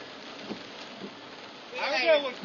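Steady hiss of rain falling around a baseball stadium in Charleston, West Virginia, a constant wash of drops with a few soft taps, as a voice briefly speaks near the end.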